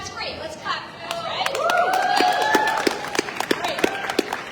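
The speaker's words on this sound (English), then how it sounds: "Let's clap for that" Scattered hand claps from an audience at a Family Empowerment Day event, sparse and uneven, mixed with someone talking and crowd chatter throughout.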